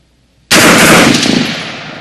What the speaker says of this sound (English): Now you're doing bursts. What you'll notice there, that's not a bump stock. That's a standard AR.